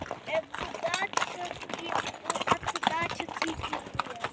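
A horse on a father-and-child riding safari clip-clops in a steady walking rhythm, close by and moderately loud, while people talk over the hoofbeats.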